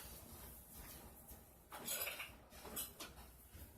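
A spatula clinks and scrapes against a bowl while stirring thick cold process soap batter, with soft intermittent knocks rising midway, quiet and close with no talking.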